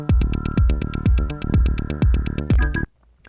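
Music run through the Airwindows Mojo audio plugin at a zero setting plays a steady pulsing beat with punchy low thumps and bright repeated hits, then cuts off abruptly near the end, leaving near silence.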